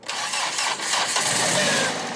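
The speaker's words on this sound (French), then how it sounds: "Ce moteur-là, on l'a d'abord démonté et puis on l'a modifié pour l'adapter." Modified 1440 cc car engine fitted to a Mekong speedboat cranks and starts, catching abruptly and running loud and rough close by.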